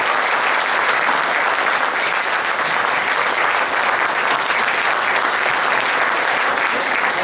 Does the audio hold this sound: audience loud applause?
yes